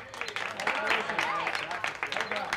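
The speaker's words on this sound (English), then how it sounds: "Give him a round of applause." Outdoor crowd applause at a Pride Day flag-raising ceremony in Carteret, New Jersey, a steady patter of clapping with voices and cheers mixed in throughout.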